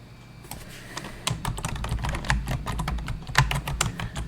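Keys clatter on a computer keyboard while text is edited in Microsoft Publisher, a close, irregular run of crisp taps that quickens midway, with no voices.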